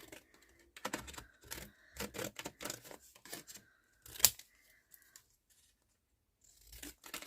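Scissors snip in quick, close bursts as they cut around a number taken from a magazine page, with crisp paper crunches and brief pauses between cuts.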